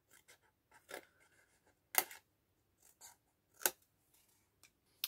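Scissors snip through paper to cut a line for a scrapbook book box, in several short, crisp, separate cuts with quiet pauses and light handling rustle between them, close and fairly faint.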